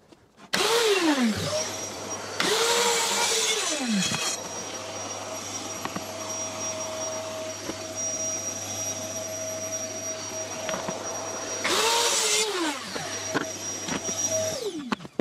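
A power saw cuts a wooden board for a budget DIY multifunction table, in close, loud bursts: a motor spins up, whines through the cut with bright high-pitched rasping, then winds down, with a second cut near the end over a steady hum.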